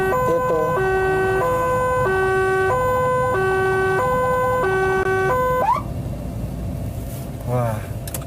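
An Indonesian ambulance siren sounds a loud, close high-low two-tone, alternating steadily for several cycles before cutting off, then a brief rising wail and a voice speaking.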